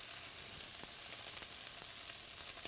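Artichoke hearts tossed with browning onions in a hot pan give a steady, dense sizzle, close and continuous, with faint stirring taps scattered through it.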